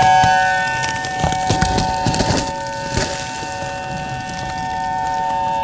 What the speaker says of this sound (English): The tornado siren is going.